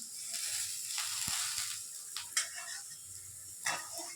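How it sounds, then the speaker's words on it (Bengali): Potatoes frying quietly in a pan, a soft continuous sizzle with occasional light clicks and scrapes of a utensil, faint and close, no voices. "শুধু একটু আলুই ভাজা করছি"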